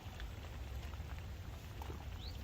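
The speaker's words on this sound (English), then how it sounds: "We've got about 2 hours, maybe 3 hours of rain" Steady rain falling outdoors at a fishing spot on an autumn syndicate lake, a constant dense hiss with scattered drop impacts, fairly soft and continuous with no voices.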